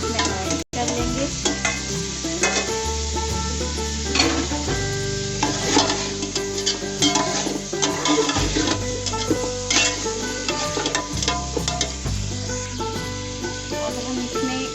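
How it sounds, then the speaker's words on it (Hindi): Boiled beef stirred into a pot of sizzling oil for beef pulao, with steady frying hiss and scraping stirs of the spoon against the pot, heard close and continuous under background music. "बॉईल किया था गोश्त को, वो गोश्त इसमें ऐड कर लेंगे।"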